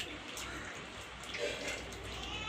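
Water is poured slowly, a little at a time, into fish curry paste in a home kitchen, giving a steady, soft splashing and trickling that runs close by for a couple of seconds.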